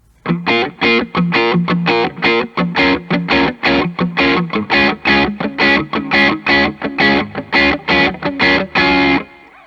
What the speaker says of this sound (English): let's start off with the Nobles by itself.